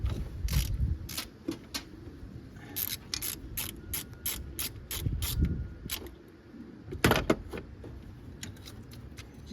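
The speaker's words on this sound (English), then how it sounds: "I'm gonna go ahead and loosen up this bolt right over here." Ratchet loosening a bolt on a 1991 Miata, heard as bursts of sharp, close clicks at an irregular rhythm with short pauses between strokes, over faint low rumble.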